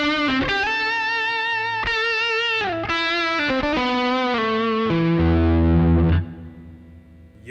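Electric guitar played through a Tech 21 Fly Rig 5 with its distortion and hot setting engaged, ringing out sustained, harmonically rich overdriven chords and notes that shift every second or so, loud and alone before fading near the end.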